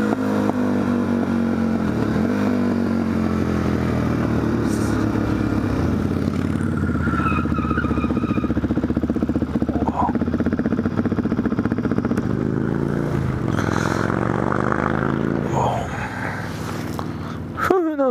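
A motorcycle engine idles and rumbles nearby in Australian bushland, steady and loud with shifting pitch as the throttle changes, plus some clatter and movement noises near the end.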